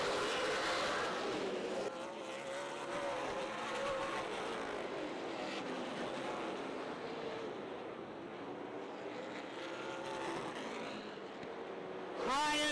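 Super late model stock cars race in a 200-lap championship feature at Rockford Speedway, their engines blending into a loud, continuous roar as the pack circles, swelling sharply near the end.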